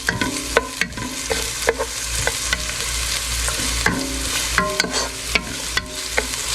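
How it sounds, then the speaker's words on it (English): Finely diced onions are stirred into tomato puree in a hot pan, a steady sizzle punctuated by repeated sharp spoon clinks and scrapes at an uneven rhythm. "So I will stir this around until they're translucent."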